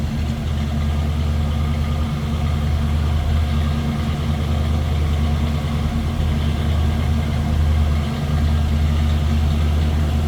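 The 350 engine of a 1957 Chevrolet Bel Air two-door hardtop with a four-speed manual idles in neutral, a steady low rumble holding an even, unbroken tone throughout.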